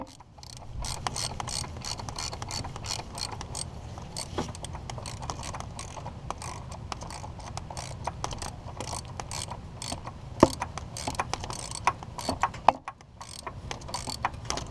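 A hand ratchet tightens the bolt on the front engine mount of a 1993-1999 VW Jetta, giving a steady run of close mechanical clicks and ratcheting pawl ticks through the whole stretch, with a few sharper knocks near the end.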